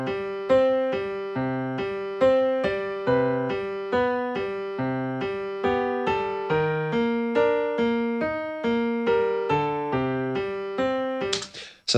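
A piano part programmed in FL Studio's piano roll plays mechanically even chords and bass notes, each struck at identical loudness in a strict repeating rhythm, alone and clear with no voices.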